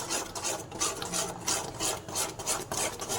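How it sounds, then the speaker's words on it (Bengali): Semolina being stirred continuously in a pot with milk, rhythmic rasping scrapes of a spoon against the bottom repeating about twice a second, close and fairly quiet, no talking. "এবার এই সুজিটাকে কন্টিনিউয়াসলি আমার নেড়ে যেতে হবে"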